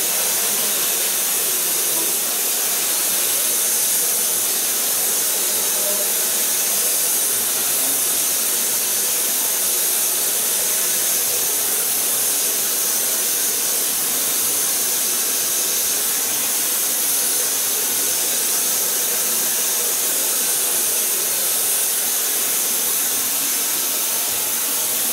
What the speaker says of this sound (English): And this I do with the last part of blow drying it into the hair.